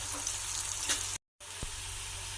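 Onion, tomato, ginger-garlic paste and cashews sizzle and fry in a pan, a soft steady hiss with a faint stir or two and a brief moment of silence partway through.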